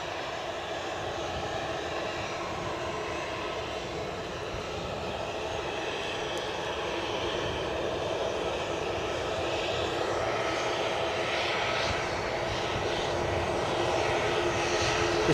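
An airliner's jet engines departing Edinburgh Airport give a continuous, building roar with a rising whine layered on top, growing steadily louder toward the end, and no voices.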